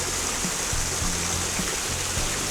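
Constant rushing water leaking through closed canal lock gates, like a steady stream trickling and pouring nearby, with faint low thumps underneath.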